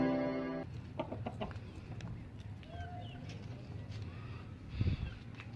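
Hens cluck in short, scattered calls over a steady farmyard hum, with a brief harsher squawk near the end.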